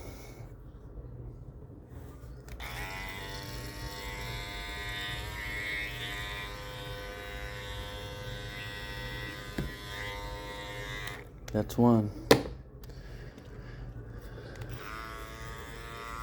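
Barber's electric hair clippers buzzing steadily and quietly close by in a barber shop, a continuous hum with a few clicks and knocks near the end, while someone talks briefly.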